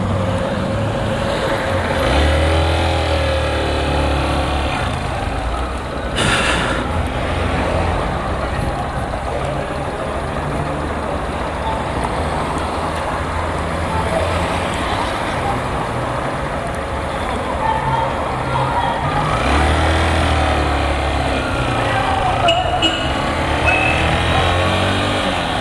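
Road traffic passing along a city street, with cars and heavier vehicles rolling by in a continuous near wash of engine and tyre noise that swells at moments.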